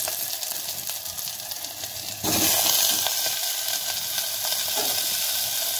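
Cauliflower and potato frying in a pot, sizzling steadily, then jumping to a louder, brighter hiss as more of the food hits the hot oil, with no talking.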